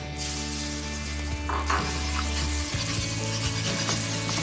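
Whisked eggs sizzle and fry steadily in a hot stir-fry pan, a constant close crackle with a few metallic scrapes of stirring, alone without talk.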